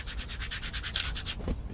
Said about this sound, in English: this is going to take a little while to sand this down and get it right